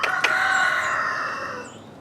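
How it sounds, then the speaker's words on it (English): A rooster crows once, nearby and loud, a long drawn-out call that trails off over about two seconds. "That's Donnie, my rooster."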